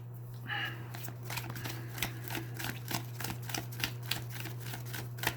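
Tarot cards shuffled and drawn in a quiet room: a quick riffle near the start, then a rhythmic run of soft, crisp card snaps and taps, close and faint over a low steady hum.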